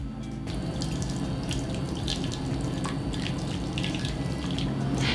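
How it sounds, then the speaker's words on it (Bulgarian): Hot broth is poured over lamb offal to scald it while cooking an Easter feast. The liquid runs in a steady, continuous stream, fairly close, with no voices. "А с останалият заврял бульон ще си залея черния дроп, за да го попара за няколко минутки."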